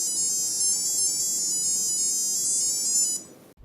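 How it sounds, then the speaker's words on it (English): A Timex Pac-Man digital watch with a gold-tone case plays the Pac-Man melody as its alarm: a bright, steady electronic beeping tune, loud and alone, running continuously for about three seconds before cutting off abruptly. "it actually plays the Pac-Man melody as the alarm tone"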